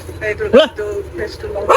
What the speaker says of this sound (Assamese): কুকুৰে কাজিয়া কৰি আছে